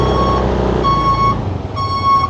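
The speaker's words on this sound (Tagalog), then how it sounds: "may sasakyan, may sasakyan, may truck." A truck's reversing alarm sounds on a mountain road in Benguet: three long, loud, evenly spaced beeps over a low engine rumble, with no talking.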